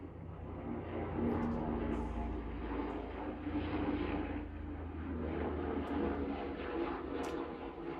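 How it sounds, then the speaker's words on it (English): A helicopter flies outside, heard through a window as a steady, moderately loud engine and rotor drone that swells slightly and holds without a break. "I think it's a chopper outside."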